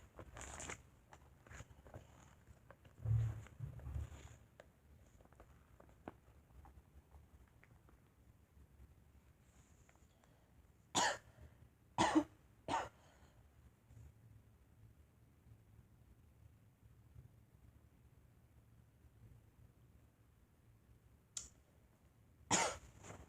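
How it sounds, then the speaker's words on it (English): Several short, sharp coughs break a quiet, faintly noisy background, spaced irregularly with long gaps between them. "still coughing"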